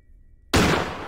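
A single loud, close gunshot in the horror video game Granny, with a sharp sudden blast that decays over the following second after near silence.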